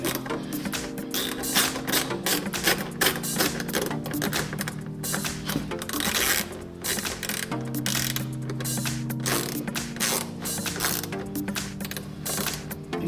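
A ratchet clicks in fast, repeated bursts while fittings are tightened during a Tesla High Power Wall Connector installation. The sharp, close clicking runs nearly nonstop over faint steady background tones.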